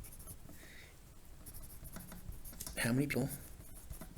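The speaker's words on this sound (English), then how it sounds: "Let me write this question down." A math question is written out by hand in short scratchy strokes and taps, running continuously under a voice.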